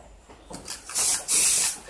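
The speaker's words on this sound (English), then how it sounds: "spray a bit over the, just like that, all over the surface" An aerosol can of satin black primer sprays over the roof surface of an AC Cobra rebuild, giving two short, close hissing bursts after a faint lead-in.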